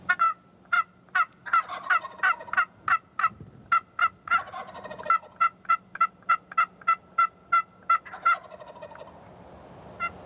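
Wild turkey gobbler answering turkey calls during the early breeding season: a long run of about twenty sharp, evenly spaced calling notes, with the gobbler's rattling gobbles breaking in among them, loud and close with no talk.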